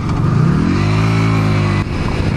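A motorcycle engine drones steadily and loudly while riding, its pitch climbing during the first second as it accelerates and then holding an even hum, with a brief dip near the end.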